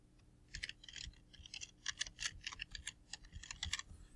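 Fingers tap out quick, uneven bursts of keystrokes on a computer keyboard, crisp close clicks with brief pauses between words, quiet and alone.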